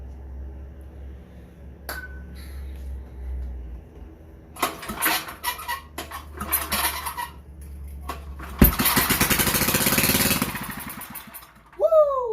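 A vintage Generac Niagara generator, Model 5621-0 with a Tecumseh 5hp engine, is cranked over in several rough, uneven pulls, then fires and roars loudly for a few seconds before cutting out.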